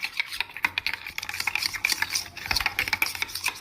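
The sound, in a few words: mixing salad with mayonnaise and Italian dressing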